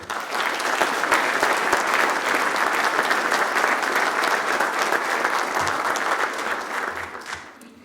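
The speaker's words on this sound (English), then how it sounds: "please give another round of applause for today's guest speaker, Major General Walter T. Lord" An audience at a ROTC Hall of Fame ceremony gives a loud, sustained round of applause for the guest speaker, a major general. The many-handed clapping stays strong throughout and tapers off only at the very end.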